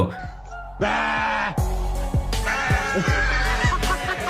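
A sheep bleats loudly and close by in a run of repeated wavering calls, each cry rising and falling in pitch, with short pauses between them and no speech.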